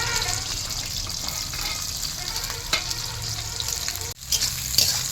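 Sliced onion sizzles steadily in oil in a kadai while chilli chicken is being cooked, producing a continuous close hiss of frying with a brief dip near the end.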